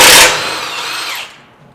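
A power tool whirs briefly and loudly as it backs out the 17mm lower rear shock bolt on a 2022 Toyota Tundra, fading quickly at the end.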